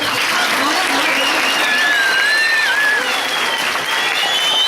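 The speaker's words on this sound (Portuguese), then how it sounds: "Mais aplausos, por favor." Sustained loud applause from students in a classroom, dense and steady throughout, with a few thin whistles and cheering voices rising above the clapping.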